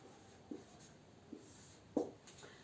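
Chalk or marker writing on a board during a mathematics lesson: a few faint, quiet strokes and taps spaced irregularly, with a slightly firmer stroke near the end over a hushed room.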